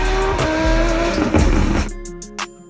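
A Lamborghini V10 engine gives a loud, raspy roar at full throttle with rising harmonics, then cuts off into a few sharp exhaust pops and crackles.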